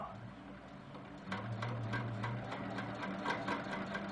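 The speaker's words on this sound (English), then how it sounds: "And we're going to stitch up until our foot hits the seam line" A sewing machine stitches a quilt border, running quietly at first and then speeding into a steady mechanical whir with rapid needle ticks for the last few seconds.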